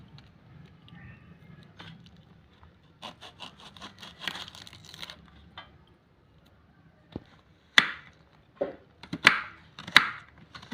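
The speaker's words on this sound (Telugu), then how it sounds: "ఆనియన్ను చిన్న ముక్కలుగా కట్ చేసుకుంటున్నామండి" An onion is chopped into small pieces with a knife, soft taps at first, then sharper close knocks on the board in quick uneven bursts.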